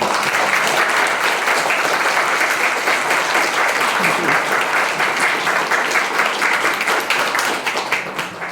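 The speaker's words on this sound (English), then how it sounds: "a round of applause for Arnel and all of our panelists" Loud, sustained applause from an audience at a book launch on health and health care inequities, honoring the panelists, with many hands clapping densely and evenly before the sound starts to thin out at the end.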